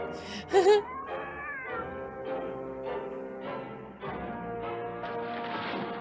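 A cat meows repeatedly, long drawn-out wailing calls in a steady series, close and clear with a short sharp noise near the start.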